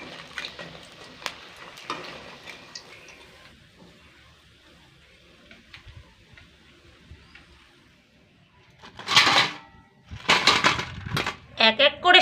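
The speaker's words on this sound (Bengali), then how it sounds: "এইভাবেই উল্টে পাল্টে এগুলোকে বেশ লালচে করে ভেজে তুলে নেব" Vegetables fry in hot oil and are turned over, soft sizzling and light stirring scrapes at first, then bursts of louder crackling spatter near the end, with a voice speaking over parts of it.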